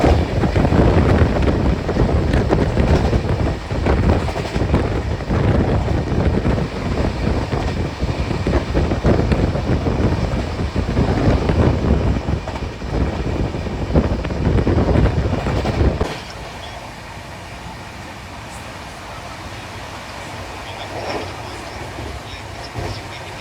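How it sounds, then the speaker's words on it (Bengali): A Visakhapatnam Superfast train runs toward Kharagpur Junction with a loud continuous rumble, rattling and wind noise, then drops abruptly to a quieter steady hum as it slows, with no talking. "আর আমাদের ট্রেন এখন এসে পৌঁছালো খড়গপুর জংশন।"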